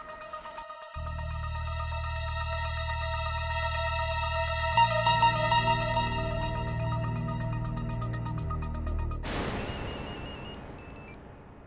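A telephone call being placed, its ringing tone sounding as steady repeated electronic tones over a low sustained hum, ending in a burst of broadband noise.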